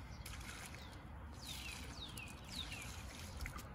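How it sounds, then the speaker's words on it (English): Water poured into dirt to make mud outdoors, a faint soft trickle and gurgle under steady background noise, with a few distant bird chirps. "And I'm going to pour some water"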